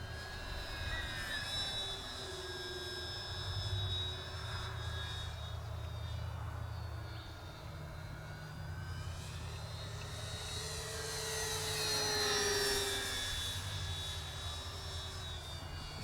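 An Avios Twin Otter twin-engine electric RC STOL plane, 1600mm span, flying overhead with a steady tonal whine from its electric motors and propellers that fades a little, then swells louder as it passes near around the twelve-second mark, no talking.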